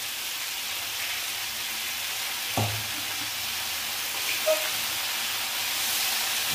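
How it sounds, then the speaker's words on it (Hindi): Fenugreek leaves fry with potatoes in a pan while being stirred continuously, giving a steady, even hiss of sizzling with a single soft knock partway through and no talking. "अब मेथी को भी हमें फ्राई करना है लगातार चलाते हुए"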